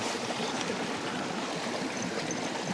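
River water rushing over rapids at a bush camping spot in New South Wales, a steady broadband roar of churning water, close and continuous with no talk.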